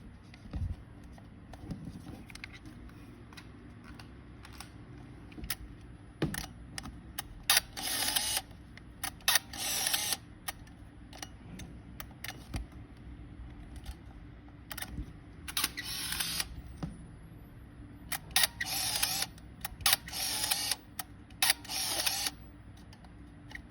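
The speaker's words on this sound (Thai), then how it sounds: "ชัตเตอร์ก็คือ รอแฟลชชาร์จอยู่ค่ะ" A Fuji Tele Cardia 160 film camera produces quiet mechanical clicks and shutter sounds between bursts of loud, bright, high-pitched whirring as its flash charges, including a rising electronic whine, with no talking.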